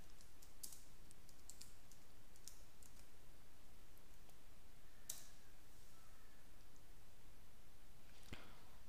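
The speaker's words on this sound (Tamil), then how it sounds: "தாம்பரம்னு டைப் பண்ணுறேன்." Light, quick keystrokes on a computer keyboard as a place name is typed into a map search, with a few sharper clicks scattered through a quiet room.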